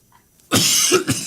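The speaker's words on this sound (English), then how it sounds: "And a little bit of coughing." A person coughs twice in quick succession, close and fairly loud, after a near-silent pause in a quiet room where miniatures are being painted.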